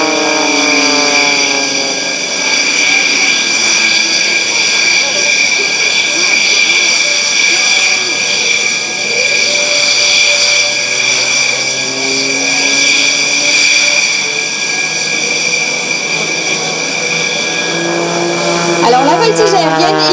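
An aerobatic plane performs at the Le Touquet airshow, its engine a continuous droning roar with shifting pitch sweeps, loud and steady under someone commenting over a public address.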